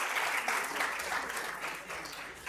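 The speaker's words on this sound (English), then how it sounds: "So please give them a much bigger round of applause" An audience at a high-level stakeholder dialogue on elections in Uganda gives a full, steady round of applause for the Embassy of the Netherlands, the event's sponsor, and keeps clapping throughout.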